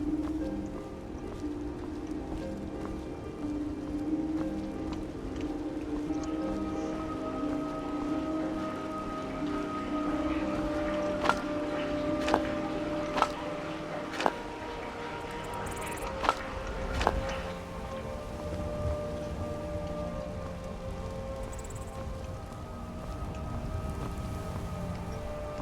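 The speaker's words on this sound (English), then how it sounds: "I do quite enjoy the rain" Steady rain in the Skyrim game world around Falkreath falls as a soft, continuous patter, with a series of sharp isolated drips or knocks standing out in the middle.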